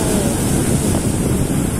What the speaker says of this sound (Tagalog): Galit na galit yung alon, oh.